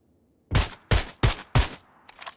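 Four loud, evenly spaced MK rifle shots from a PUBG match crack out close at roughly third-second intervals, then a quieter burst of distant fire trails off; no one speaks.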